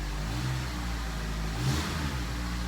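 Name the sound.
2003 Honda CRV engine running after timing chain repair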